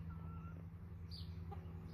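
Faint clucking from young American Bresse chickens, ten to twelve weeks old, outdoors near their feed, sounding softly over a steady low background hum.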